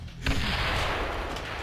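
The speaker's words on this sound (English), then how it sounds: "Tons of explosions happening outside my house." Explosions outside a house: a sharp boom is followed by a continuous, loud rumbling roar, heard from indoors with no voices.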